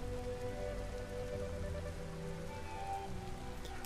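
Steady rain in a video game, Detroit: Become Human, patters continuously on a surface, an even hiss of drops with no voices and no pauses.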